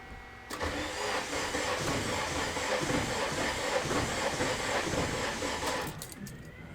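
An Acura Integra engine turns over after a coolant tank install, a steady broadband churn of cranking and running that holds loud and close for about five seconds before cutting off.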